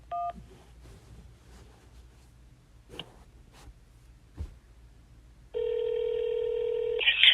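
Telephone keypad DTMF tones during a call to a health insurance phone line, with a short beep near the start and then a loud, steady multi-tone signal for the last two seconds, over a faint hiss and sparse clicks.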